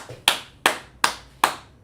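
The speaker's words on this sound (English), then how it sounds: "Qadash, let's clap it up for y'all in class right there." A small class claps in four sharp, evenly spaced bursts, each a crisp group of hands striking together that fades quickly, close and clear with no talking.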